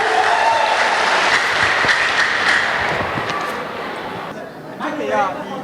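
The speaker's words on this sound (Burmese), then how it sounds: "အားလုံးလက်ခုပ်တီးဖိတ်ခေါ်ပေးကြပါဦး" A crowd applauds a Kachin ethnic dance with dense clapping and voices mixed in. The applause is strong at first, then thins and fades as chatter continues.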